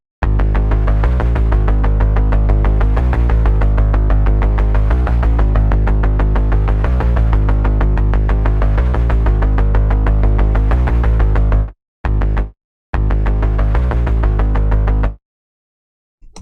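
Zero-G Elements Kepler synth plays a rich, sustained pattern built on low triplets, loud and continuous with a steady pulsing rhythm, cutting out briefly twice near the end before stopping.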